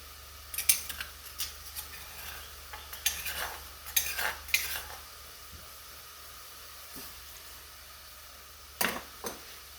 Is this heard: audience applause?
no